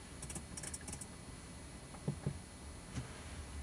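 The thumb-wheel controller in a Mercedes-Benz E-Class cabin gives a few faint, sharp plastic clicks, spaced apart and heard alone in a quiet interior.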